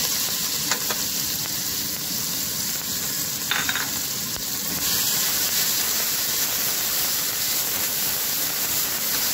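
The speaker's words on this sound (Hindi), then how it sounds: "इसको हल्के पिंक कलर तक मैं भूनूंगी" A ginger, garlic and onion paste fries in a pan with a constant, loud, even sizzle and hiss, broken only by a few faint clinks of a utensil, with no talking.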